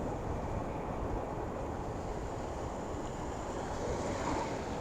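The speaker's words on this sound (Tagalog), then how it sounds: "Malakas ang hangin din dito kasi taas to eh." Steady, strong wind roars across the microphone on high ground, a continuous broadband rush with slight gusting swells and no voices.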